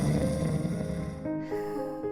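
A monster in a video game, the Minotaur, snores: one long, rough, rumbling inhale-like snore that fades into a quieter droning tail, heard alone without talk.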